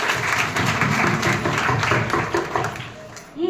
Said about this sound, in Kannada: ಹಾ, ಚಪ್ಪಾಳೆ ಚಪ್ಪಾಳೆ